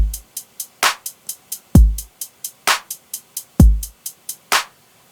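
A programmed drum beat built in FL Studio 21: a steady, crisp hi-hat ticking in even eighths, with a deep booming kick and a sharp clap punching in on alternating beats, loud and clean with no talking.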